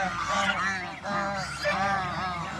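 A flock of farm ducks in a Bangladeshi village calls in loud, overlapping honking quacks, repeated in bursts close by, with a voice faintly underneath.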